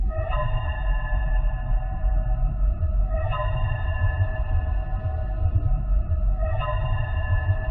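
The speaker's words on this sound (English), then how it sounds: "The ambience to alert you of an animatronic that's nearby," Eerie ambient cue from the video game FNAF 2 warning that an animatronic is nearby, a sustained ringing tone under a low rumble, restruck at steady intervals of about three seconds, alone.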